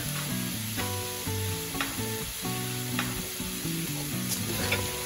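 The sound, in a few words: meatballs with black pepper and salt stir-frying in pan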